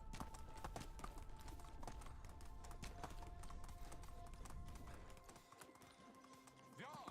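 Horse hooves galloping in the video game Medieval Dynasty, a fast steady clip-clop rhythm at moderate volume that slows and stops near the end, followed by a short whinny.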